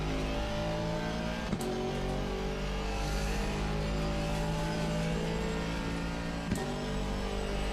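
A race car engine on the Nordschleife in a racing video game revs hard, rising and holding in a loud, steady drone with two sharp gear-shift clicks, heard alone.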